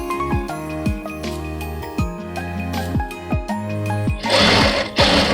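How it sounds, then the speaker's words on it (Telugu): A sewing machine stitches short puff sleeves in loud, close bursts of rapid mechanical clatter, separated by brief pauses and handling noises, with no voices. "స్టిచ్చింగ్ చేస్తున్నానండి."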